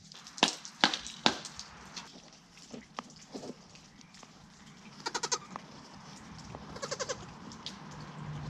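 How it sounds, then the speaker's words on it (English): A goat bleats repeatedly nearby in a rural setting, loud wavering calls in short bursts separated by sharper clicks and knocks, with quieter rustling between the cries. "Stop it, goat."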